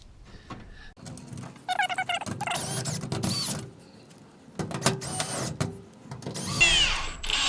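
A power drill drives screws into a garage door in several short whirring bursts separated by brief pauses and handling clatter, fairly close and loud.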